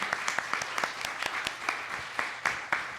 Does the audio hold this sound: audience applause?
yes